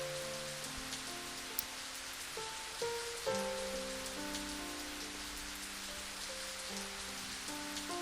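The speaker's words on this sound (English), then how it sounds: "a silence arrived where only the sound of the rain could be heard" Steady rain patters on a surface throughout, with a low hum of soft background music beneath it in a quiet scene of the visual novel game Higurashi Rei.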